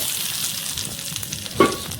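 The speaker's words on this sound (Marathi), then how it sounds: "कडक एकदम तापवलेलं तेल टाकणार आहे" Very hot oil poured over marinated chicken on a wood-fired stove, giving a steady bright hiss with a brief louder sputter near the end.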